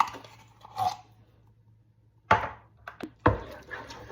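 Tomato puree is stirred into lasagna meat sauce: a few sharp scraping and clunking hits of a spoon against the pot, separated by near-silent gaps.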